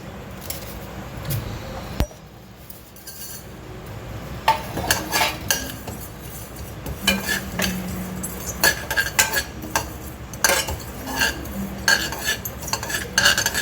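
Curry leaves, onion, raw ginger and cumin being dry roasted in a pan, with irregular metallic scraping and clinks of a spatula stirring close up.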